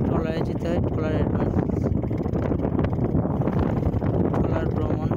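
A trawler's engine drones at sea under strong wind buffeting the microphone, a dense continuous roar on the crossing between Chhera Dwip and Saint Martin, with people talking over it.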